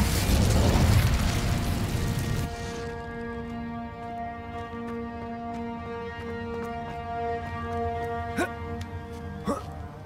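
An Incendio fire spell blast in the Hogwarts Legacy video game: a loud, roaring burst of flame for the first few seconds, fading into sustained musical tones with a couple of sharp pops later.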